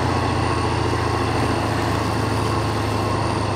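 A heavy logging truck's engine rumbles steadily and loudly in the Spintires off-road driving game, a constant low drone with no break and no voices over it.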